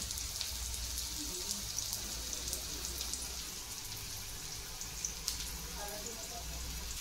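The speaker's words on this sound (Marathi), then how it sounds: "तर आता आपण थोड्या वेळ कांद्याला परतून घेऊया." Onions sautéing in a pan for homemade fried rice, a steady close sizzle and crackle with scattered pops running throughout, no voices over it.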